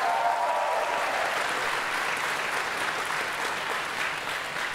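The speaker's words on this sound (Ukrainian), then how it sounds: "Оплески Михайлу Мироновичу." Steady, full applause from a stand-up comedy audience, dense and continuous throughout with no talk over it, holding an even loudness from start to finish.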